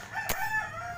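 A neighbor's rooster crows faintly once in the distance, a brief call over quiet outdoor background noise.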